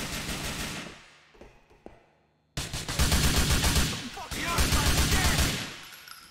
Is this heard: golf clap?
no